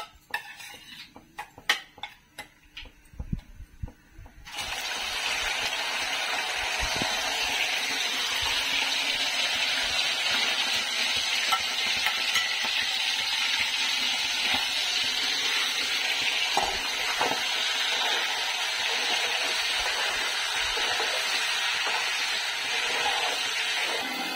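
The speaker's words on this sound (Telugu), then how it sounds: "చికెన్ ముక్కలు రెండోసారి వేసుకున్నాం కదా నూనెలా డీప్ ఫ్రైకి." Chicken pieces deep-fry in hot oil for a chicken pickle, a loud, even bubbling hiss that starts abruptly after a few seconds of clattering utensils and continues steadily to the end.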